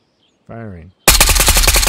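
An AK Alpha rifle fires in the Ghost of Tabor video game: a short tonal sound comes first, then a loud, close burst of rapid automatic shots in a fast, steady rhythm until the end.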